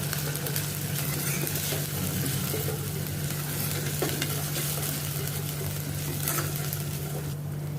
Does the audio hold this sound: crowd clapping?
no